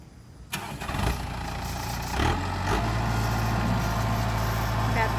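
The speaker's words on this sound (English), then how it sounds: "Here we've got the Kubota M7040 with a loader on it, and we've got a 5-foot cutter on the back." A Kubota M7040 tractor with a front loader and a 5-foot rear cutter cranks and starts, then settles into a steady, close diesel idle; someone speaks over the engine.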